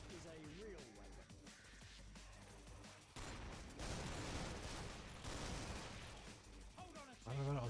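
Full-auto gunfire in Killing Floor 1 rattles in dense, sustained bursts that grow louder midway and stay loud, layered with game mechanisms, while someone talks over the shooting.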